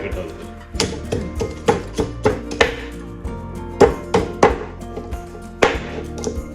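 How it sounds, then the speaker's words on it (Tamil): Steady, close knife chops through dried fish (karuvadu) from Colombo on a board, a run of sharp evenly spaced thwacks with short pauses between groups. "கொலம்போலேருந்து வந்த கருவாடு இன்னைக்கு நம்ம இதை வெட்ட போகிறோம், வெட்டி சாப்பிட போகிறோம்"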